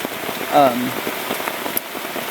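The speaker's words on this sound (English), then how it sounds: "The raindrops are landing on the screen and hitting the stop button and ending the video." Heavy rain drumming on a camo tent and tarp at a campsite, a dense continuous patter with a brief louder spatter near the start, no talking.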